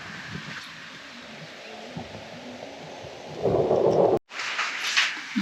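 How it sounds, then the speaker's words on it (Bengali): Rain falling in a mountain valley with thunder, a steady wash of rain with a deeper rumbling swell building near the end before a brief cut, then rain continuing, close and fairly loud with no voices. "বৃষ্টি শুরু হয়ে গেছে।"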